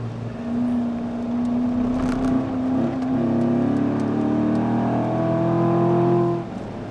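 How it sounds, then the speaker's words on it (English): A 2014 Corvette Stingray at Laguna Seca, the engine and exhaust droning loudly from inside the car with a steady tone that climbs in pitch as it accelerates, then drops off near the end. "Corvette engineers did a lot of work on fine-tuning the harmonics of the exhaust system, so it sounds as good from the inside as it does from the outside."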